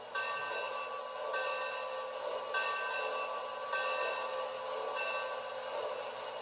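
A model B&O Big Six 2-10-2 steam locomotive bell rings in a steady rhythm, about five clear strokes roughly a second apart, over a constant low background hum.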